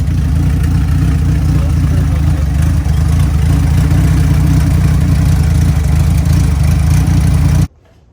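A turbocharged Honda Civic hatchback engine idles up close, a steady, loud low rumble with a faint high hiss above it that holds evenly, then cuts off abruptly near the end.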